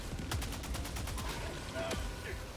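Rapid gunfire in Helldivers 2 aimed at a Bile Titan: a quick burst of shots early on, then scattered game sounds and a faint voice, heard at moderate distance.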